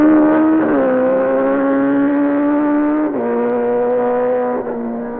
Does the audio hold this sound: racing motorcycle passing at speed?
yes